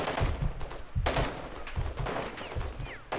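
Rapid gunfire in the Call of Duty: Modern Warfare II campaign on Veteran difficulty, a steady stream of sharp repeated shots with several louder close bursts, continuing throughout.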